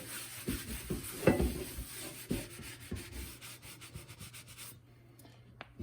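A shop towel wipes the bottom of a cast iron pan with repeated close scrubbing strokes, a dry rubbing rasp in an uneven rhythm that fades out near the end.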